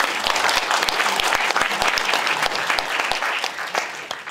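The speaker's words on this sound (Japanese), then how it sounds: "もう一度拍手を" Applause from the audience at the founding meeting of a group opposing the transfer of radioactively contaminated soil to Shinjuku Gyoen, a steady round of dense, close hand clapping that carries through the whole stretch before easing slightly at the end.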